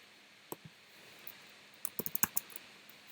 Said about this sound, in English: Did not mean to type down there.